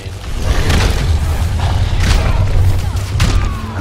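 Goliath's Fire Breath attack in the Evolve video game, a loud sustained roaring blast with deep low rumble and repeated thuds and booms throughout, faint talk mixed underneath.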